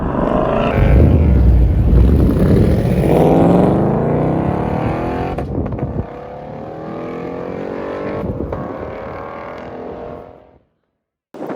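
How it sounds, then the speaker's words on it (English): A Ford Mustang Mach 1 engine roars hard on a clutch-dump launch at a racing school track, revving up through rising pitch, dropping briefly as it shifts, then pulling again before cutting off. Loud and close. "dump the clutch and let her rip."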